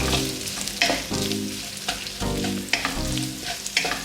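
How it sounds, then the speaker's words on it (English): Bell peppers and other vegetables for fried rice sizzle steadily in a hot pan while a utensil stirs and scrapes in a repeating rhythm, close up, with no voices. "Frying it about 2 to 3 minutes. Then I add my bell peppers."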